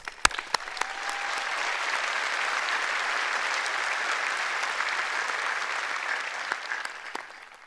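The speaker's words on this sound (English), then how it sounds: "Let's give them a round of applause." A graduation crowd breaks into applause, starting with a few sharp individual claps that swell into a full, even round of clapping before thinning out at the end.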